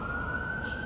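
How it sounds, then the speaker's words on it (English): An emergency siren wails in a thin steady tone that rises slightly, faint and distant over low traffic rumble, too short to catch a full cycle. "Maybe wait for the siren?"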